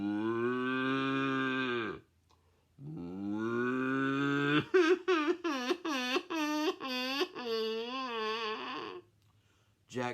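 A storyteller's voice imitating a crying cow in a folk tale about Jack and the animals: two long, drawn-out moaning moos, then a string of shorter wavering, sobbing lows, loud and close with no other sounds.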